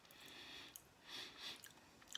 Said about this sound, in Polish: Chrupie.